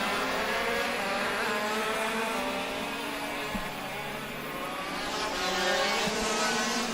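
Racing karts in an open-class kart race sweep through the second-to-last corner, their small engines droning steadily and loudly with a dense, continuous buzz that rises and falls slightly, the whine lifting again near the end.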